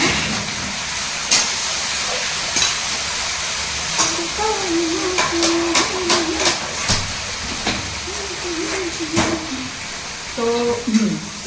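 Saag greens cook in a pan over onion, garlic and chili already fried, giving a steady broadband hiss with scattered clicks and clatter, while someone talks intermittently over it.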